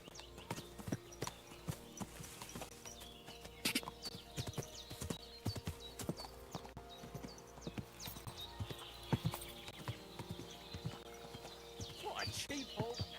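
A horse's hooves clip-clop in a steady walking rhythm while riding in the video game Kingdom Come: Deliverance II, fairly quiet, with a person talking over it at times.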